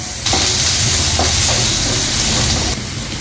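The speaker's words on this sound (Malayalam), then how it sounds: "ഇനി നമുക്കിതൊരു മീഡിയം ഫ്ലെയിമിലിട്ട് നല്ലപോലെ വഴറ്റിയെടുക്കാം." Sliced onion sautéing in hot coconut oil over a medium flame makes a loud, close, continuous sizzling hiss with a few faint stirring knocks, easing slightly toward the end; nobody talks.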